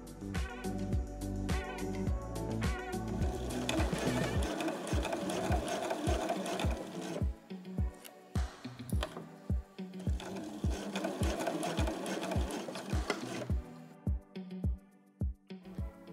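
A sewing machine stitches a zigzag on a knit jersey bra band. It runs in a fast, rhythmic stitching burst, slows into distinct evenly spaced needle thumps, then speeds up again, close and fairly loud with no talking.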